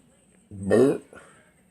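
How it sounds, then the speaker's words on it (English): One big, loud, drawn-out human burp lasting about half a second, close to the microphone, followed by a faint short throaty trailing sound in an otherwise quiet room. "Had a nice big burp."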